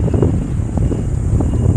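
Loud, steady wind buffets the microphone on a bicycle ride up Olalia Road, a continuous low rumble with gusty swells and no voices.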